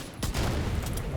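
Gunfire in a video game shooter: a sharp onset breaks into a dense, sustained burst of rapid shots and booms that lasts about a second, loud and close, with no voices over it.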